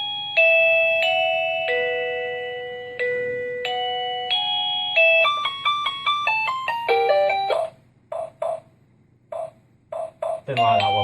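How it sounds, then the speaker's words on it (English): A black 1Byone Easy Chime plug-in wireless doorbell plays its chime tunes, one melody after another: clear electronic bell notes in stepped sequences, then quicker broken tune fragments with short gaps, switching through several chimes. "And the normal doorbell."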